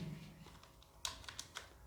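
A name is typed on a computer keyboard: a few faint, scattered key clicks tap out at close range in an otherwise quiet room.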